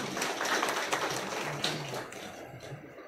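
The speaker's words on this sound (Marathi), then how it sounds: "त्यांचं आपण टाळ्या वाजवून एकदा स्वागत करायला पाहिजे" An audience at an education forum on national education policy applauds to welcome speakers. The clapping is a dense, moderate wash that is strongest at first and then gradually thins and fades.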